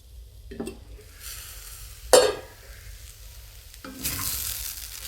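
Grated coconut is sautéed into a cluster bean dal usili in a pan, giving a low sizzle with scattered stirring scrapes and one sharp clink of a utensil against the pan.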